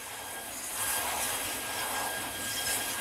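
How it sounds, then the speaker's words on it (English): Jet fire roaring during a fire test of a sealant, simulating a hydrocarbon-fueled fire on an offshore oil rig: a dense, steady broadband roar, loud and continuous throughout with no pauses. "The jet fire simulates a hydrocarbon-fueled fire on an offshore oil rig or a missile strike"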